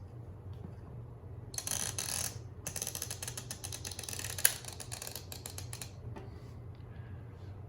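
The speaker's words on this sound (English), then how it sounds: "you'll notice as I do that, you'll probably hear a little bit of a clicking noise" Clicking of a timer dial switch on a Wi-Fi router guard being turned, a rapid run of faint ratcheting clicks in two bursts, close but quiet over a low hum.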